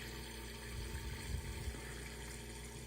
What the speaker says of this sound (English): The recirculation is hitting the top of that rubber stopper and splashing out